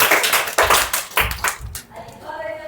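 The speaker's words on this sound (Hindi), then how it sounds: "सबको मारना चाहिए ताली" Uneven audience clapping in a madrasa gathering, several irregular bursts of claps overlapping with talking voices, fading out after about two seconds.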